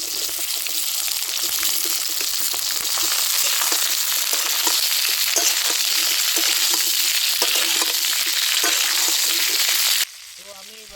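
Kundru pieces frying with chopped tomato in a hot pan, a continuous loud sizzle with scraping stir strokes for about ten seconds, then cutting off abruptly.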